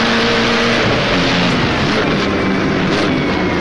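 Racing car engine in rFactor's 1937 Tripoli Grand Prix mod, a loud, sustained droning roar close up, holding steady with slight shifts in pitch and no talking.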